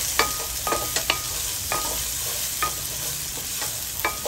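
Upo (bottle gourd) sautéing in a little avocado oil, a steady sizzle and fry with repeated sharp scrapes and stirring clatters from the pan at an uneven rhythm, close and alone with no talk.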